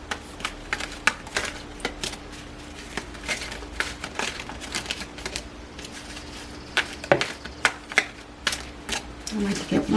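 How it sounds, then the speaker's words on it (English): Rapid riffling and flicking of cards being shuffled, crisp irregular clicks repeating throughout at close range, with faint speech in the background. "They're hard to shuffle."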